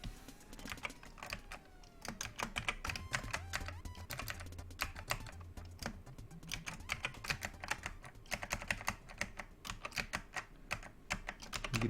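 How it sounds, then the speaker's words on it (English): Fingers rattle quickly across a clacky mechanical computer keyboard at a desk, a dense close run of sharp key clicks in bursts with brief pauses, over a faint low hum. "You can hear the beautiful sound of my clacky keyboard."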